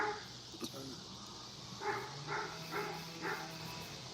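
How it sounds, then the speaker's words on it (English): Dogs bark somewhere in a neighborhood at night, with a few distant, muffled barks spaced out over a steady background hiss. "Dogs are barking in the neighborhood."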